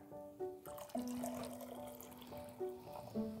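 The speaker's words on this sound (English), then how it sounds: "And hot water." Hot water runs from a tap or kettle into a mixing glass for a rum hot toddy, a steady near trickle and splash over quiet room tone with a few soft clinks.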